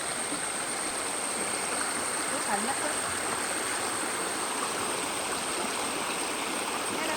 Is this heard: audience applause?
no